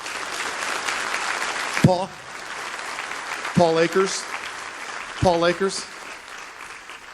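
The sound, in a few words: audience applause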